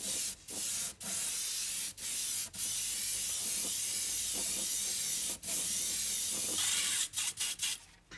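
Airbrush hissing out coats of black paint in long continuous bursts with brief pauses between passes, steady and close, no talking.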